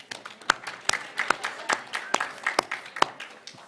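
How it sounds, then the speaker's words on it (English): A small audience applauds panelists with sparse, uneven claps, faint and fairly close, fading after a few seconds. "Let's give them a round of applause, please."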